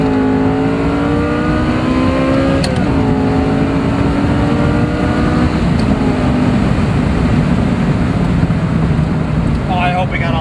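A Ferrari F355 Spider roars as it accelerates hard through the gears, loud and close, its engine pitch climbing and dropping with each upshift for the full stretch, with no talk over it.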